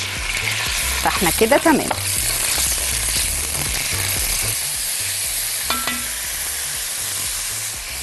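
Chicken frying in a pan for a broccoli soup sizzles steadily throughout, with stirring clatter early on and a brief voice speaking partway through.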